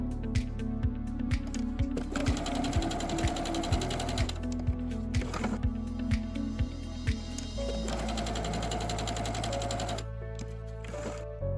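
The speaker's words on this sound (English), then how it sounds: "Sew down both long sides using about an 1/8 inch seam allowance." A sewing machine stitches down the long sides of fabric for a small AirPods case, running in a rapid, even mechanical chatter. It stops and restarts with changes in speed and a brief pause near the end.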